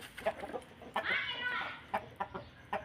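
Chickens cluck in short, uneven bursts close by, with one longer squawking call in the middle, while people talk in the background.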